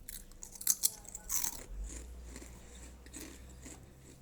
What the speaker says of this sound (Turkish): Gördüğünüz gibi çıtır çıtır.